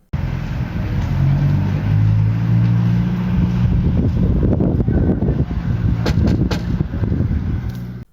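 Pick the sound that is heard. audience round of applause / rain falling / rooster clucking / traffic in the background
traffic in the background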